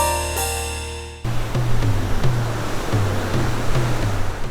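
Ocean waves off Batanes, a broad steady wash of surf rolling in continuously, loud and close, with surges every second or so after an abrupt start.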